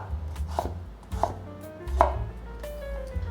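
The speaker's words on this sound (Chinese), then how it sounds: "把红萝卜切成片状" Knife slicing a peeled carrot on a cutting board for a vegan dish, with three or four distinct thuddy chops spaced about a beat apart, close and fairly clear over a low steady hum.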